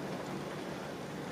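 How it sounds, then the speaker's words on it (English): Rain falls steadily during a thunderstorm, a continuous broadband patter and hiss that stays even throughout with no voices over it. "And I'm sorry if you can hear rain in the background."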